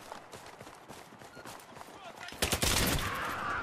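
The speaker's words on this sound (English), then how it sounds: "Ooh, that shotgun, man" Shotgun blasts in the video game Battlefield 3, loud booming shots that come in quick succession after a stretch of rattling gunfire and movement, with a voice briefly in the mix.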